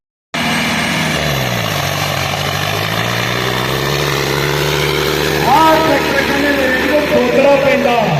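A John Deere tractor engine roars loud and steady at a trolley-pulling contest, a continuous droning rumble that swells slightly toward the end.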